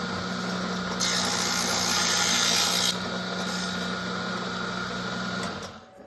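A Jim Byrnes model table saw runs steadily while squaring wooden grating blanks for a model of HMS Thorn, its motor hum joined by a brighter hiss of blade on wood for a couple of seconds, then spinning down at the end.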